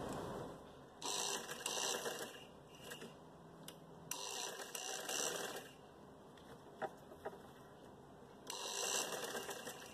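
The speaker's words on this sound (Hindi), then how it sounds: "ये मैंने 4 दफ़ा बार मैंने इसके ऊपर डबल करके सिलाई लगाई है।" A sewing machine runs in several short bursts while stitching elastic onto trousers, its mechanical whir starting and stopping at close range with quiet pauses between runs.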